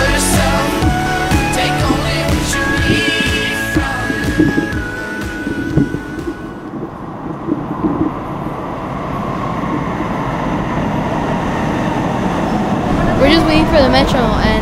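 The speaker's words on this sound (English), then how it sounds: "Metro, and this is what we take on our city" City metro train rumbling along with steady rail noise and a long whine, loud and continuous throughout, with a voice speaking over it near the end.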